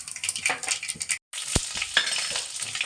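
Mustard seeds, cumin and curry leaves spluttering in hot oil, a loud crackling sizzle with quick pops and a sharp metallic clink after a momentary break.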